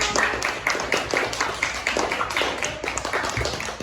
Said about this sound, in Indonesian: Beri tepuk tangannya untuk kelompok 1